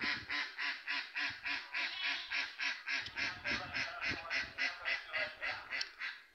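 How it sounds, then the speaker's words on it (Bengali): Domestic ducks quack loudly and repeatedly in a steady run of close, rhythmic calls, with a few overlapping honks and no other sound clearly present. "হাঁসগুলো ছোটোবেলার থেকে আমরা মানুষ করি, ডিম ফুটিয়ে বাচ্চা তুলে মানুষ করি।"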